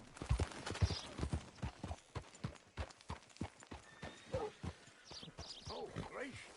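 Horse hooves clip-clop in a steady walking rhythm in a video game while people talk over them, the hoofbeats fairly close and clear.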